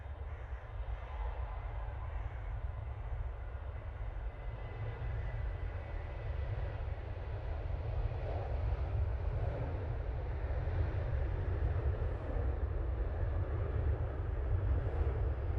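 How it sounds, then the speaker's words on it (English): Continuous low jet engine rumble as an airliner takes off from Manchester Airport bound for Malaga, distant and steady, gradually swelling slightly over the span with no talking. "Off to Malaga with that plane, Jane."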